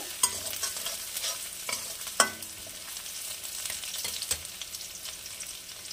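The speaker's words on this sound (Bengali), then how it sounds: "পেঁয়াজটা ভাজা ভাজা হয়েছে," Onions fry in a pan for a Bengali-style vegetable khichuri, a steady close sizzle broken by several sharp scraping clicks as a spoon stirs them.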